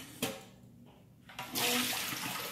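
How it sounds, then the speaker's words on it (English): Soaked pink beans drained of their water: a brief splash, a pause, then a steady rushing pour of water running off, fairly close and moderately loud. "Next, I'm going to go ahead and drain my beans."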